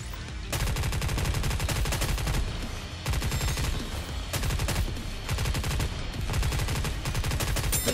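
Rapid bursts of automatic gunfire from the video game NIKKE rattle loudly and almost continuously, split into several long volleys by brief pauses, with no talking.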